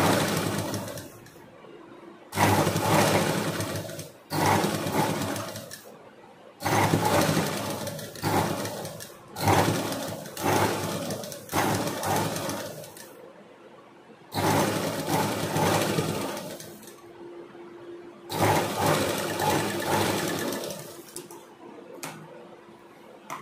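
A sewing machine top-stitches a cap sleeve onto the shoulder side of a body piece. It runs in several close bursts of steady rapid whirring, a few seconds each, with short quiet pauses between runs.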